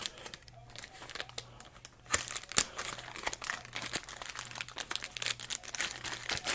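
Plastic packaging from an external hard drive unboxing crinkles and crunches in bursts, close and fairly loud, with quieter handling before the rustling picks up.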